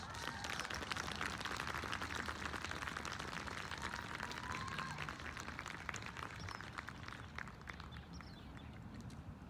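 A crowd applauds with dense, sustained clapping that holds strong for several seconds, then gradually thins and softens toward the end.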